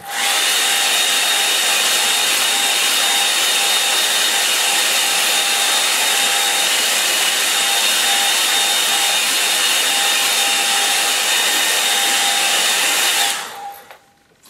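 A hair dryer blows steadily and loudly at close range over a watercolour coastal painting, a continuous even whine that runs nearly fourteen seconds before cutting off abruptly.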